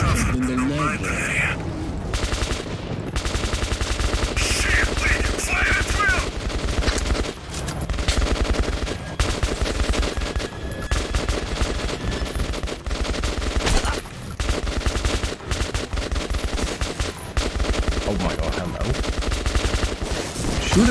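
Gunfire in the video game The Last of Us, loud rapid bursts and repeated shots hammering almost continuously for a long stretch, with voices talking over the shooting.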